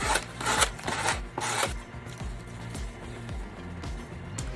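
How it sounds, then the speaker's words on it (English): Repeated rhythmic scraping strokes of a sanding block rubbing paint off the edge of a large board, close and steady, with a few louder rasps at the start. "I'm just gonna use my sanding block and just sand that off"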